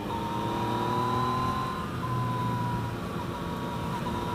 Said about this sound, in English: I can hear the transmission whine here in third.